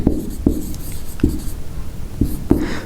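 Chalk or marker strokes on a board, five or six short sharp scratches spaced irregularly over a few seconds, close and clear against a quiet room.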